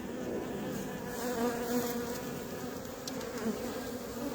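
Steady, dense buzzing of many honeybees around a hive frame, continuous and fairly close, with no voices.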